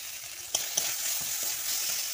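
Onion, ginger, garlic, slit green chilli, tomato, salt and turmeric fry in a pan with a quiet, continuous sizzle punctuated by a few brief stirring clicks, no voices present.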